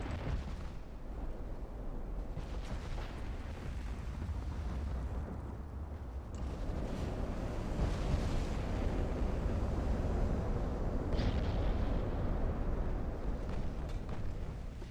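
Torpedo strikes landing on battleships during a naval battle in the game Ultimate Admiral: Dreadnoughts, heard as a steady, heavy rumble of deep booms and blasts that swells louder midway and holds with no talk over it.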